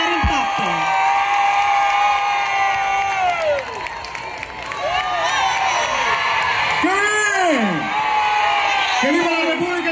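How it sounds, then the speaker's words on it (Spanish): A crowd at a Dominican festival in Perth Amboy, New Jersey, claps, cheers and whoops loudly and continuously to welcome a guest on stage, shouts and excited voices rising over the ongoing applause. "vamos a recibir con un fuertísimo aplauso a nuestro Tony D'Andrade"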